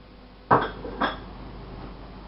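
A spoon stirs soaked couscous and butter in a pot, giving two sharp metallic clinks against the pot's side, followed by quieter scraping.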